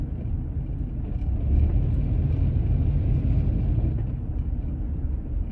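A car rolls on an exploded tire, giving a continuous low, heavy rumble with rough flapping texture that swells slightly and stays steady, recorded from inside the vehicle.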